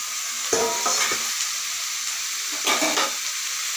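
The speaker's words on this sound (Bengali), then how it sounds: "এবার একটা খুন্তি দিয়ে একটু নেড়ে চেড়ে নেব, যাতে তেলটা সবকটা শাপলার সঙ্গে ভালোভাবে মিশে যায়।" Water lily stems being stirred with a spatula in hot oil, giving a steady close sizzle broken by two bursts of scraping and stirring.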